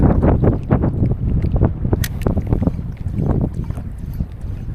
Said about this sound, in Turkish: Arkamdan esiyor şu anda kuvvetli bir şekilde.